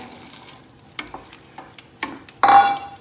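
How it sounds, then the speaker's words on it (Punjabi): Green peas and spices stir-fried in a pan: a few scattered scraping clinks of a utensil, then a sudden loud burst of sizzling close by, with no talking. "ਹੁਣ ਆਪਾਂ ਇਹਦੇ ਵਿੱਚ ਪਾ ਦਿੰਨੇ ਆ ਹਰੇ ਮਟਰ ਤੇ ਮਸਾਲੇ"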